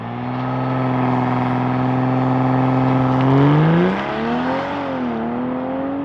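A 2025 BMW M440i xDrive launching under launch control, its engine holding a loud steady drone that rises sharply in pitch, drops at an upshift, then climbs again as it pulls away.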